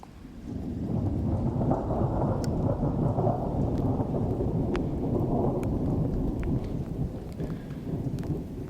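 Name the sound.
rain falling on a mountain trail in Yosemite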